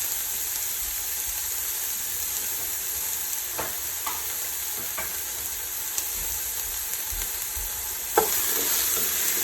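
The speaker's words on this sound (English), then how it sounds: "I just want to stir that up until it becomes translucent." Freshly chopped onion sizzles steadily in a soup pot for chicken, kale and vegetable soup, with a constant bright frying hiss and a few scattered scrapes and clicks of stirring, one sharper knock near the end.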